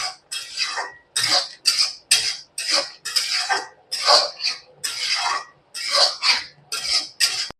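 Butter and garam masala being stirred into onion capsicum paneer masala in a pan, heard as a string of quick scraping, clinking strokes of a utensil against the pan in a steady rhythm, close and fairly loud, with no talking.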